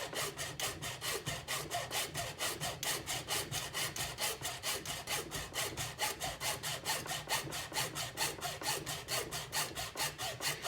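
A hand hacksaw cuts through a plastic quick-release roll cage adapter for a Rovan Baja 5b RC car in fast, even back-and-forth strokes, close and steady for about ten seconds, with no talking.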